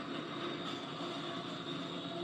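A train passing through a city, a continuous, even rumble with a broad roar of wheels on rails, fairly faint and distant, with no talking.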